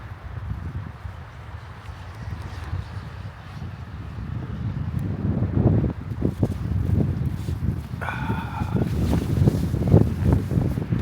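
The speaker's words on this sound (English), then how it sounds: "The wind's picking up now" Wind gusting at an empty beach lined with Australian pines, a broad steady rush that grows louder partway through, with a brief tonal whine near the end; no talk.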